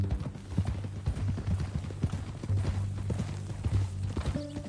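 Horse hooves clip-clop steadily at a walking pace in the Red Dead Redemption 2 video game, a soft rhythmic clopping at moderate distance under low ambient background.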